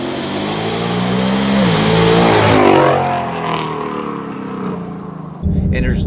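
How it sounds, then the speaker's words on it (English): A 2018 Ford Mustang GT with headers, cold air intake, E85 fuel and active exhaust revs up, the deep engine note rising and falling in pitch, loud and close, with a fresh burst near the end. "it's a lot deeper with the active exhaust"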